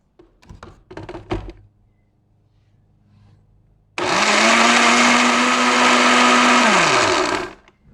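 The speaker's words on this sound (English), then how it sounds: "And all the other flavor ingredients are going to be blended for the sauce that Nok's going to make as the base of this" A few clunks and taps come first, then after a short pause a kitchen blender starts up with a loud, steady whir while blending sauce ingredients for a spicy tofu stir fry. Its pitch drops briefly before it cuts off.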